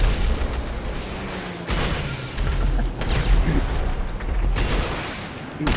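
Rocket explosions in GTA Online, several loud booming blasts and bursts spread across a noisy stretch of gameplay, mixed with mechanical rumble.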